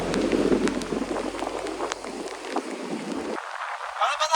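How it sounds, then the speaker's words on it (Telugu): Rain falls outdoors in Udupi, Karnataka, as a steady broadband hiss with gusty, windy rumble that drops away toward the end. "వర్షం పడిపోతుందమ్మా."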